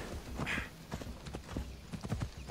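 Horse hooves in the video game Assassin's Creed Odyssey, a steady series of clip-clop footfalls at walking pace, close and fairly clear, with a short snort or neigh early on and no talk.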